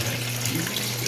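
Water running into the tub of a Samsung 7.5 fully automatic washing machine, a steady rushing flow held at even loudness throughout.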